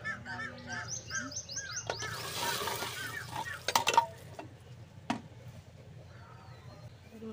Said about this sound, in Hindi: हमारा तड़का तैयार हो गया है, दाल में डाल जा रही हूँ।